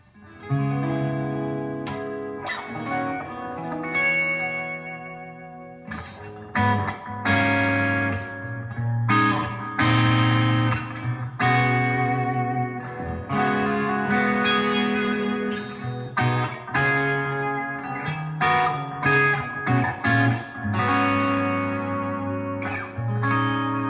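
Washburn N4 electric guitar played through a Marshall DSL40 amp's clean channel with a touch of overdrive grit, chords and single notes ringing out with a little reverb, loud and close.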